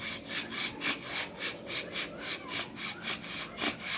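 A primitive bow drill spinning against sycamore wood to make friction fire, a rhythmic back-and-forth rasping grind repeating about three times a second, close and steady with no voices.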